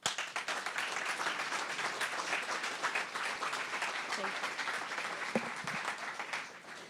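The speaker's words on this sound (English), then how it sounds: "Let's give a big round of applause again for Katie Stevens and her call to action." Audience applause after a talk at a Connect18 event on bikes and transportation, a steady broadband wash of many hands clapping that holds for nearly seven seconds before easing slightly at the end.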